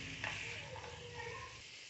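Chicken pieces sizzle and fry in hot oil while being stirred, a steady soft crackle with a faint scrape of stirring, quiet and continuous.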